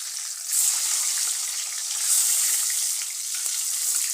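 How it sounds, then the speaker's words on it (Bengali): Eggs seasoned with salt and turmeric fry in hot soybean oil, a steady close hiss and crackle of sizzling that rises and falls slightly throughout. "আমি এখন ডিমগুলোকে সুন্দর করে ভেজে নেব।"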